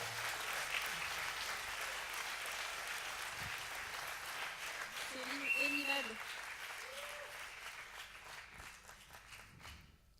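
Applause from an audience at a televised talent-show final greets a contestant being called up, a dense steady patter of clapping that fades toward the end, with voices talking over it.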